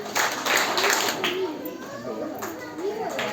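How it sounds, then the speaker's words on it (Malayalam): Clapping breaks out briefly for students at a school anniversary celebration, a short burst of applause near the start that gives way to lively children's chatter and voices. "നല്ല കയ്യടികൾ കൊടുക്കേണ്ടതാണ്"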